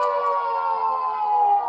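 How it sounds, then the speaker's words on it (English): A ship's siren sounds in the video game Stormworks as one sustained, steady tonal wail with a few layered pitches, loud and alone with no talk over it. "ships from this era tended to have a lovely little siren, which is really annoying to listen to."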